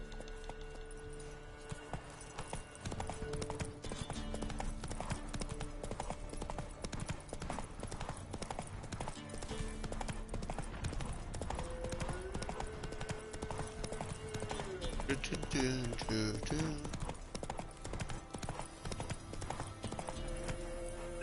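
Roach the horse gallops in The Witcher 3, with a steady, rapid clip-clop of hooves running throughout, layered over ongoing in-game sound and tones.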